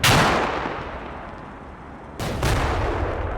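Mortar rounds landing near a bridge in Combat Mission Cold War, two heavy booming impacts with rumbling tails, loud and close, a few seconds apart.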